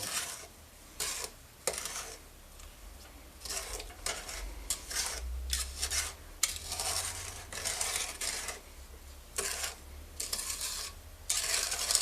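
Stirring a sugar mixture for chocolate marshmallows in a pot, heard as steady scraping and swishing strokes with soft clinks of utensil against the metal, close by with no talking.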